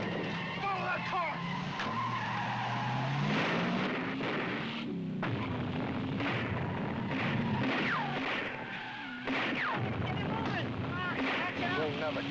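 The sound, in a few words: GMC pickup truck engine and tires skidding in chase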